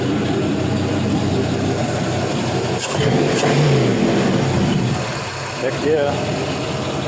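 A warmed-up 4.8L LS V8 runs loud and close, a steady engine drone with a brief rev swell midway, while a voice briefly speaks over it.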